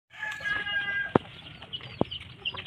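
Chickens clucking softly in an outdoor coop, with a few sharp, brief knocks or peck-like taps and faint background chatter.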